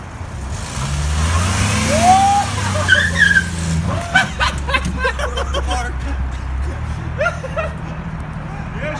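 A car does a tire-smoking burnout on pavement, its engine droning low and steady while the tires squeal and roar. Several onlookers chatter and laugh over the noise.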